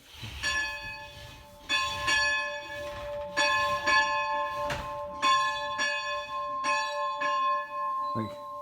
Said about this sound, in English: You have to ring the bell.